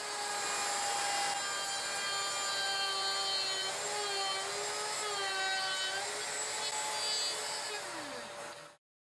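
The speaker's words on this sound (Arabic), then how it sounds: "عشان الراوتر ما يرقص مننا حطيت خشب نفس ارتفاع الخشبة اللي هقصها، وهنبدأ القص" A wood router cuts through a board with a same-height spacer block beneath it: a loud, steady motor whine whose pitch sags and recovers under load, ending abruptly as the cut stops.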